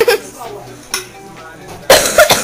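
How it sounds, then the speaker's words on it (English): A couple of sharp, close coughs, with a brief bit of talking between them. "Excuse me for my cough."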